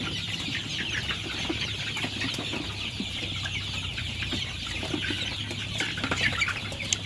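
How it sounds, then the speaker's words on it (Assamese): Golden Sonali chickens on a poultry farm with about 550 birds, many clucking and calling at once in a busy, continuous chorus, with occasional wing flaps and no talking. "এইটো হ'ল সোণালী মুৰ্গী।"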